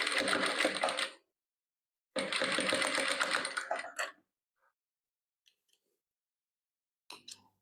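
A sewing machine stitches dark blue patchwork fabric pieces in two sustained, even runs of rapid needle clatter, each a couple of seconds long, then falls quiet before a short final burst.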